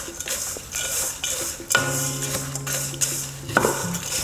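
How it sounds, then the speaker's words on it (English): A spoon scraping and clinking against a pot while stirring nuts, sugar and salt for granola: repeated metallic knocks and ringing taps, close and fairly loud, with no talk. "I'm just going to stir this up."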